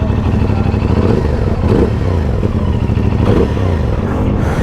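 A CFMOTO 450SS motorcycle's parallel-twin engine with a 270-degree crank running close up, a loud steady throbbing idle with slight rev swells and mechanical clatter, no talking.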